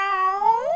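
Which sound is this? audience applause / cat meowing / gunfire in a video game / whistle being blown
cat meowing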